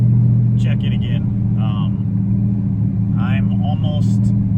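A C5 Corvette with a stroker engine cruises along, a constant low rumble and drone of engine and road noise filling the cabin while a person talks over it.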